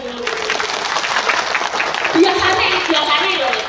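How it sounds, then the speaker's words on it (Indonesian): Clapping from a gathering of people at a tahlilan, a short burst of hand claps with voices and talk running over it. "tepuk tangan sik kangge sing melu"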